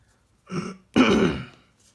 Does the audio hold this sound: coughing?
yes